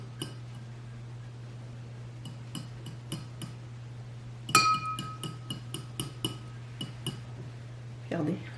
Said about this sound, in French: On va brasser pour voir si les petites boules de colorant vont se mélanger.